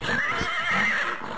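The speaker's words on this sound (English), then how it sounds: "It's a horse. I've always wanted to eat a horse." A horse whinnies in the video game Feed the Head, a single drawn-out neigh heard close and loud with no talking over it.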